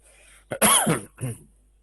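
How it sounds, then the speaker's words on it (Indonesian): A single harsh cough close up from an older man, followed by a shorter throat-clearing burst, in an otherwise quiet room. "Ini batuk aman, insya Allah"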